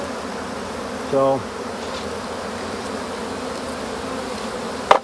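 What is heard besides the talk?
honey bees buzzing around an opened hive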